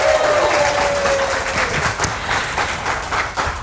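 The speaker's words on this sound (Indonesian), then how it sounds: "tepuk tangan dulu buat komunitas Amazing True Health" Audience applause from the Amazing True Health community at the opening of a health talk: dense, steady clapping from a large crowd, loud and continuous throughout.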